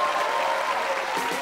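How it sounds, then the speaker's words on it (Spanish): Studio audience at a comedy talk show gives steady, dense applause with some cheering, loud and continuous throughout. "Un aplauso para Óscar, hombre."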